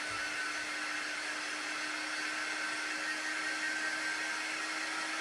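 A hair blow dryer runs at a constant, loud whooshing hum close by, steady and unbroken, while drying balsa wood craft cutouts.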